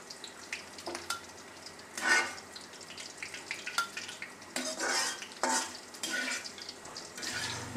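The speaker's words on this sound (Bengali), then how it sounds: "পেঁয়াজ চুলায় দিয়ে দিচ্ছি" Onions frying in a pan on a home stove, a light sizzle under repeated clinks and scrapes of a spoon stirring against the pan, in irregular bursts.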